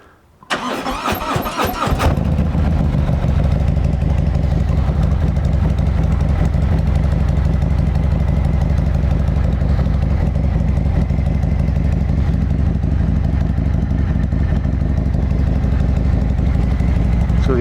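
A Harley-Davidson Street Glide with a Madstad Batwing windshield starts up with a brief rattling crank, then settles into a loud, steady, close engine rumble that runs unbroken to the end.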